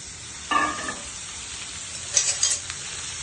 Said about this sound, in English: And we give it a mix.